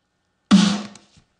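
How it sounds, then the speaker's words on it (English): A single dry snare drum sample hit in Logic, short and punchy with a quick decay and almost no ring, followed by a faint small tap. "Compared to the actual snare sample, which sounds like this."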